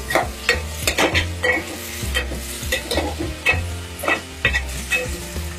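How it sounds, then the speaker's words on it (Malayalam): Mango pieces being stirred as they fry in a pan, with repeated scraping stir strokes over a steady sizzle, close and fairly loud, no talking. "നമുക്കൊന്ന് ഇളക്കി കൊടുക്കാം മാങ്ങ വേകുവാൻ അധികം സമയം ആവശ്യമില്ല"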